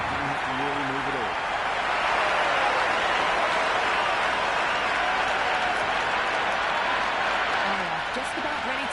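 A cricket crowd applauds in steady, dense clapping that fills the whole stretch. Commentary voices speak over it near the start and end.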